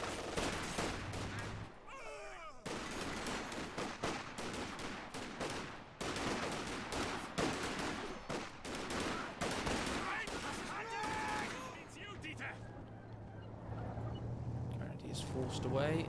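MG42 machine gun fire in a strategy video game battle: dense, rapid bursts of automatic fire overlapping with other gunshots, loud and nearly continuous throughout, with a busy combat din underneath.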